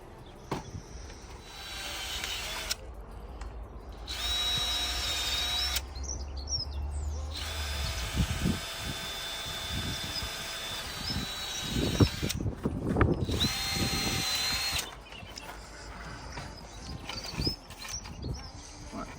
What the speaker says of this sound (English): That's our holes drilled anyway.